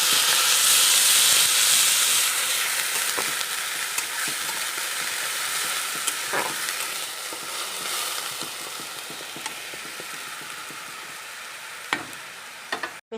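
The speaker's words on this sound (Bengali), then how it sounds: "মশলাটাকে কষিয়ে নেব।" Onion paste and spices sauté in a pan with a loud, hissing sizzle that gradually softens, punctuated by occasional sharp clicks and scrapes from stirring.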